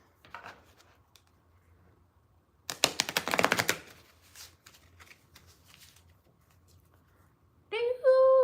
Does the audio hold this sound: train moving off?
no